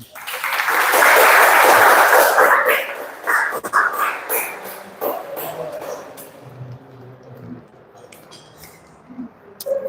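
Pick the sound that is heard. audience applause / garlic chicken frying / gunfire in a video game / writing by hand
audience applause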